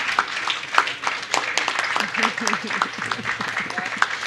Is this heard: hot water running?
no